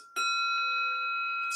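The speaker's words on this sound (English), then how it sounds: "nice sounding bell" A Zen meditation bell is struck once, ringing out with a clear, sustained tone that hangs steadily and fades only slightly, with no talking over it.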